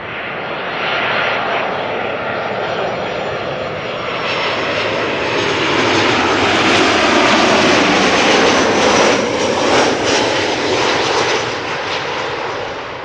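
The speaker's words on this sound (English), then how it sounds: "737-800 arriving from Corfu, Vueling arriving from Alicante" A Boeing 737-800 jet airliner arriving at Schiphol Airport, a loud broadband engine roar that swells as it passes nearby and then slowly eases, continuous throughout with no voices.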